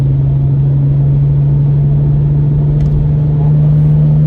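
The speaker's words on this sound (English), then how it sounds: "the exhaust tone just completely changes, and the wastegate stays open, and all you can hear is the turbo" A BMW 135i N54 turbo engine with its wastegate stuck open: a loud, steady rumble with a strong low droning tone, holding constant throughout with no talking.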